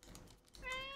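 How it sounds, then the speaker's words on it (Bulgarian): A cat meows in a stray-cat video game, drawn-out and tonal, rising over a busy game soundscape in the second half of the moment. "Мога да мяукам."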